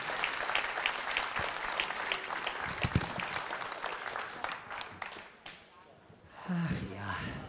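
Crowd applause in a sports arena for a sibling act at a live music TV show, clapping loud at first and thinning out, with voices heard over it toward the end.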